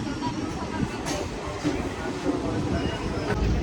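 Train rumbling into Rajgangpur City railway station, a steady low rolling roar with hiss and clatter throughout, fairly close, with a brief louder burst near the end.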